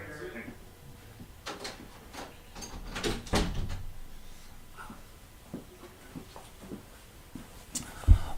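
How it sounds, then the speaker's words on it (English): A back-room door is shut amid scattered thumps and movement, with a firm closing knock standing out near the end and people talking throughout. "let me close the door"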